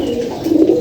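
Male pigeons, including birds kept for about seven years, coo in a steady low throaty murmur that swells louder toward the end of the short stretch, with no talking.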